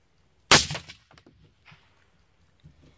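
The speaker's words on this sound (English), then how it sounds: "and then you shoot." A single sharp rifle shot cracks out loud and close during a basic rifle safety lesson, followed by a brief decaying echo and a few small handling clicks.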